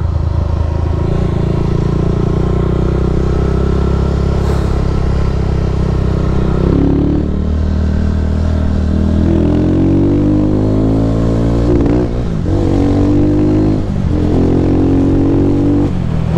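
A Honda CG 150 Sport motorcycle engine runs loudly and steadily at close range, with its carburetor out of tune, idling roughly and then revving up several times in quick surges.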